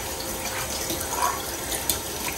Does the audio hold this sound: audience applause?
no